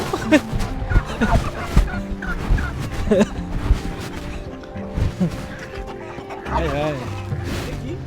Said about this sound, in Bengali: টার্কি।